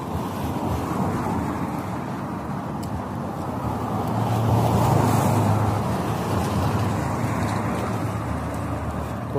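Cars speed along a road in Saudi Arabia, a loud continuous roar of passing traffic with broadband rushing noise that swells briefly midway, no voices.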